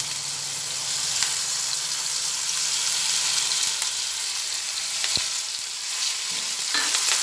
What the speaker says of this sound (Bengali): সর্ষের তেল দিয়ে যে গোবিন্দভোগ চালটা আমি ধুয়ে রেখেছিলাম সেই চালটা অল্প করে ভেজে নেব